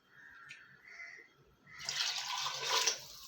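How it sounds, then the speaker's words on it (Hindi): Water rushes into a pressure cooker over rice, starting quietly and swelling into a steady, close pour for a couple of seconds. "अब हम चावलों के हिसाब से इसमें पानी शामिल करेंगे।"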